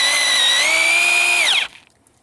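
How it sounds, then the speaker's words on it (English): Diamond core drill with water feed spins through a 200-year-old granite wall, a loud steady high whine with strong harmonic tones that drops in pitch and stops abruptly, leaving near silence. "Start spinning the drill. You can spin at full speed."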